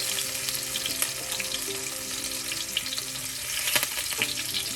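Ginger and garlic fry in hot oil in a pan, giving a steady, close sizzle with occasional stirring scrapes and no voices.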